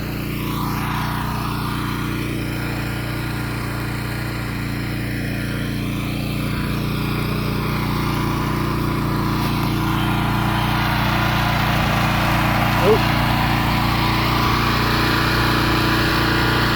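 A BCS 739 walk-behind tractor tilling a back plot, its small engine running with a steady buzzing drone that shifts pitch slightly as it works, continuous and fairly close, with no talking.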